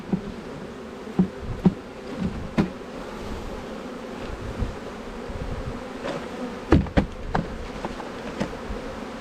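Newly arrived package honeybees swarming out of their shipping box, a steady close buzz with occasional louder passes and soft knocks, no voices.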